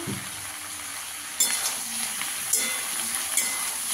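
Vegetables with eggplant and small tomatoes frying in a pan, a steady close sizzle with a few light clinks and stirring scrapes of a utensil against the pan.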